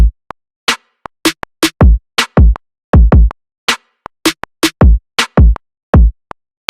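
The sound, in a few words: trap beat drum pattern with heavy kick, snare and fills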